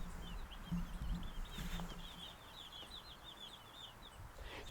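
Week-old chicks in a brooder, a steady scatter of small high peeping chirps running through the whole stretch at moderate level over a low rumble of background noise.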